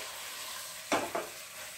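Sliced onions cooking down in a pan for chilli chicken give a soft, steady sizzle, broken by two quick stirring scrapes close by.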